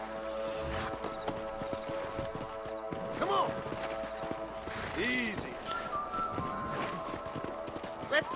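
Horse hooves clip-clop at a steady pace while a horse whinnies a few times in the Red Dead Redemption video game, with a person talking over the game sound.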